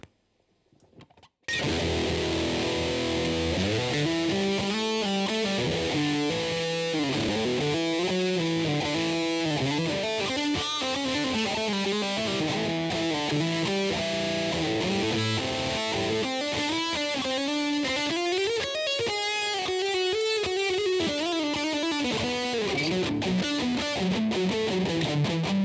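Electric guitar plays through a Boss DS-1W Waza Craft distortion pedal in standard mode, a continuous loud, heavily overdriven stream of riffs and sustained chords after a short quiet start.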